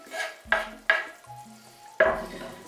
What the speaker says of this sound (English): Give that a little quick stir, just like that